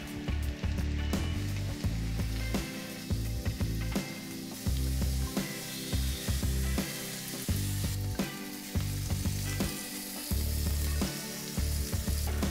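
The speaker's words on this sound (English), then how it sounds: "I'm just gonna go ahead and put them right on our grill pan. We already oiled them up" Shrimp sizzle steadily on an oiled grill pan, a dense continuous frying crackle with occasional clicks and scrapes over a low rumble, close and fairly loud with no talking.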